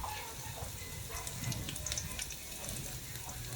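Onions sizzling in a hot pan, a steady crackling hiss with faint irregular pops that runs the whole time at moderate loudness.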